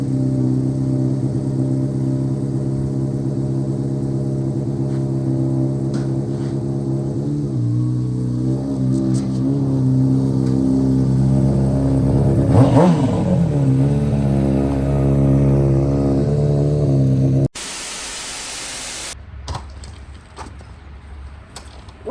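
Honda CBR 600RR sportbike engine starting and running, a loud steady idle with a sharp rev swelling up and falling back, then the engine note stops abruptly.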